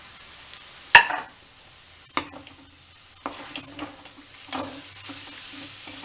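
Spiced stuffing mixture for stuffed capsicum is stirred in a pan, with a light sizzle underneath, a few sharp spoon scrapes and clinks against the pan, close and fairly quiet, without talking.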